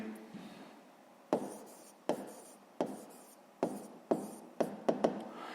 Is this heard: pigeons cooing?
no